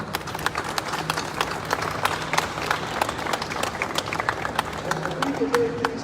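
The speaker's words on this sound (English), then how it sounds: "And I wish you'd give the staff a round of applause." A room of people applauds airport staff at an indoor press event, with brisk, closely spaced claps forming a lively, uneven patter that stays steady from start to finish.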